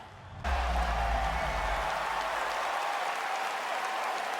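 Large audience at the 2025 Game Awards bursting into cheering and applause for Leon's return in Resident Evil, starting abruptly after a brief quiet moment and then holding as a steady, dense roar of clapping and shouts.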